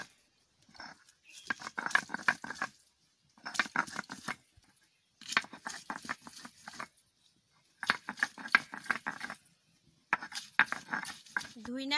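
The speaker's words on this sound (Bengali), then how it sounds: "পেঁয়াজ রসুন একসাথে আমি বেটে নিচ্ছি।" Onion and garlic are ground together, probably on a grinding stone, in repeated bursts of gritty rubbing and scraping a few seconds long, separated by short pauses, close and moderately loud.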